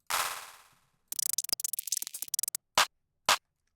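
Gun reload sample from a producer's drum kit: a sharp metallic slide rack fading out, then a rapid rattling burst of clicks and two crisp closing snaps, loud and isolated.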